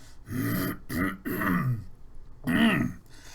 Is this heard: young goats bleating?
no